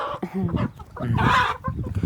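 Breeding chickens cluck close by in short, irregular bursts, with one louder, drawn-out call in the middle.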